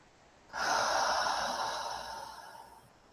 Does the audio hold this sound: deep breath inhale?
yes